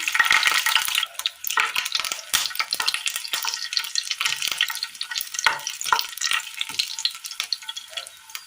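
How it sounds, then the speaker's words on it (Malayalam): Garlic drops into hot oil in a pan and frying starts, a close, crackly sizzle broken by many sharp pops and spits that carry on irregularly throughout, with no voices. "അല്പം എണ്ണ ഒഴിച്ചു കൊടുക്കാം ഇതിലേക്ക് ഒരു മൂന്ന് വെളുത്തുള്ളി ഇട്ട് കൊടുക്കാം"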